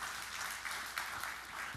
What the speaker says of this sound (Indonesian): Yang sujud tepuk tangan yang meriah bagi Tuhan Yesus.